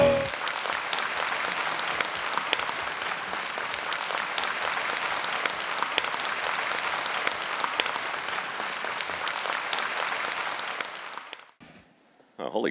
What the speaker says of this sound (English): give a huge round of applause for our next featured speaker, Mike Rowe!